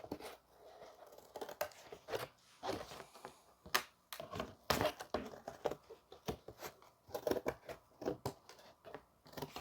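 Snips chop through sheet metal for a front cab patch on a 1988 Ford truck, a quiet series of irregular crisp cuts and clicks at close range.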